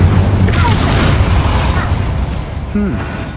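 Incendio fire spell cast in Hogwarts Legacy, a dense booming burst of flame over a low rumbling bed, with a brief pop near the end and voices mixed in the background.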